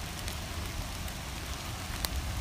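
Rain falling steadily outdoors, a dense, even patter on surfaces with a few sharper drops, close and continuous without any voices.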